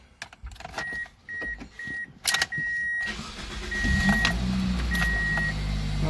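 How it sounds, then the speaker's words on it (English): Repeated dashboard chimes, then a car's newly replaced starter motor whirs briefly before the engine catches and settles into a steady running hum. "Not very super quiet as far as the starter goes."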